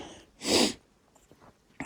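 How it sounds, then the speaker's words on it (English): A single sharp, loud sneeze bursts out close by, followed by quiet breathing and faint rustling. "I just get sneezes terrible"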